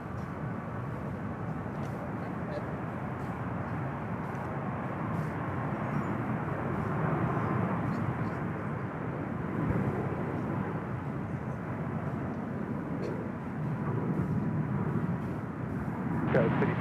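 An airliner rolls onto runway 28 right at San Francisco airport, a broad, steady engine roar and rumble that swells and fades slightly over a long stretch, with faint radio talk in the background.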